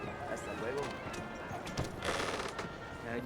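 Horse hooves in Red Dead Redemption 2 clop steadily beneath dense game ambience and other sounds, fairly faint and continuous.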